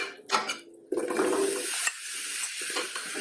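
Apples stirred into melted butter in a pan, with a scrape of a utensil against the pan and a soft sizzle, close by, in a few short uneven strokes.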